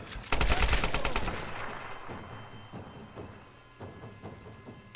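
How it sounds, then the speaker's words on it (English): A grenade launcher firing in the Tomb Raider video game: a loud rapid burst of shots up front, then a fading rumble with a few scattered sharp impacts. "I have a grenade launcher."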